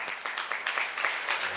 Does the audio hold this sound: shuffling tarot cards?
no